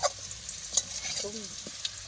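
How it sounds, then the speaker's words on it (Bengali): Potato pieces sizzle in hot oil on a wood-fired clay stove, a short stretch of soft frying hiss with a light stir or scrape. "আলু ভাজা হয়ে গেছে তুলে নেবো"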